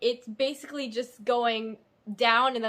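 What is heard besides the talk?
No distinct noise like a dog, phone or traffic.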